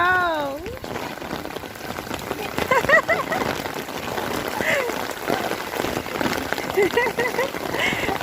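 Steady rain patters and hisses on the ground during a downpour, the first rain a little girl gets soaked in, with a voice and other people talking over it throughout.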